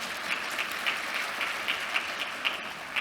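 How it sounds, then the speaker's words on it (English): An audience at a central bank payments conference claps for a speaker, a steady wash of applause from a room full of people, even and sustained throughout. "A big round of applause for Anneke"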